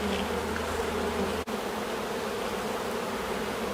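Agitated honeybees buzz continuously and close on the comb during a hive inspection, a dense steady drone with a brief dip midway.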